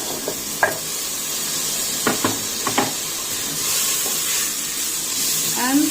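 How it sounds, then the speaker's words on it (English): Tomatoes sizzle as they go into a hot pan of sautéing aromatics, a steady close hiss broken by several spoon scrapes and stirring clatters. "Add tomatoes."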